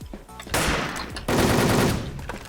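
In the video game Wolfteam, two loud bursts of rapid automatic gunfire ring out close by with a short pause between them and no talking.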